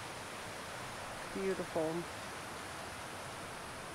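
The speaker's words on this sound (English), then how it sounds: "Let's quickly get a pic of this river flowing." A river flowing along Cache Creek Trail near Jackson, Wyoming, a steady soft broadband rush throughout, fairly faint, with one brief spoken word partway through.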